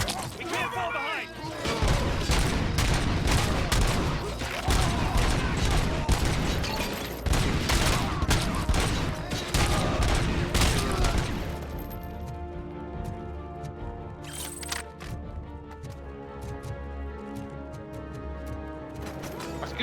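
Gunfire in the video game Robocop: Rogue City: loud, dense volleys of shots for about twelve seconds, then thinning to scattered cracks, with voices shouting over the action.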